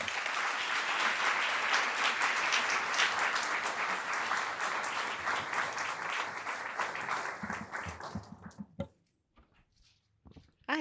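A lecture audience applauds warmly in sustained, dense clapping for about eight seconds as lecturer Leah Naomi Green comes to the stage, then the clapping thins out and stops.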